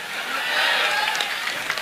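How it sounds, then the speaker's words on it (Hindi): An audience at a political gathering claps in a dense, steady wash of applause that stays fairly loud for nearly two seconds. "तालियां बजाओ"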